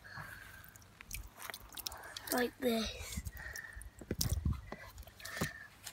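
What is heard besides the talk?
Zimpli Kids Gelli Play slushy gel being squeezed in hands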